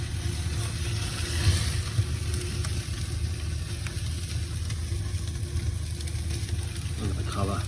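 A tomahawk ribeye steak sears in a hot pan, giving a steady, close sizzle and crackle throughout with a few small knocks. A brief rustle comes near the end.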